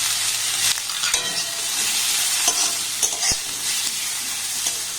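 Vegetables with tomato and carrot fry in a pan while a spoon stirs them, giving a steady sizzle with scraping strokes and small clinks, without any voices.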